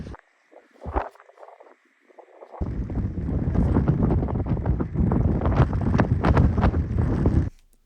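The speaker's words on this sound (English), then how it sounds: "The wind had picked up, visibility was low, and as you can see it was getting pretty cold." Strong mountain wind buffets the microphone on a cold, low-visibility hike in the Lake District near the Old Man of Coniston and Dow Crag, with a few brief gusts before a loud, continuous roaring rumble takes over.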